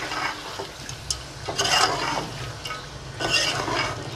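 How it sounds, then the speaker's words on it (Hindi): Yogurt goes into a quail karahi cooking in hot ghee, giving bursts of loud, close sizzling and frying with stirring scrapes that rise and fall, and no one speaking. "अब हम इसमें हल्का सा दही डाल देंगे, तकरीबन चाय वाले 2 से 3 चम्मच।"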